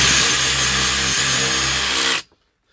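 A power drill bores a hole into wood, a steady loud whirring grind for about two seconds with a brief dip midway, then stops abruptly into silence.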